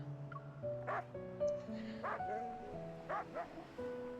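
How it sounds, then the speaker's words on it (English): A dog in the otome video game Love and Deepspace barks and yips in quick, close bursts over a continuous tonal music bed, with a few whimpery notes between the barks. "I was like, where is the dog barking coming from? Then I realize it's from the game."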